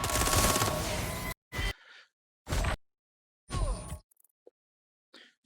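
Gunfire aimed at the player in the video game Watch Dogs Legion: a loud, sustained burst of automatic fire, then a few shorter blasts separated by quiet gaps, with no talking.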